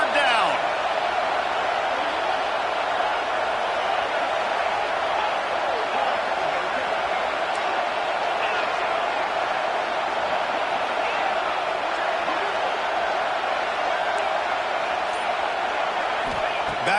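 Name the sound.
Auburn football crowd making noise on third down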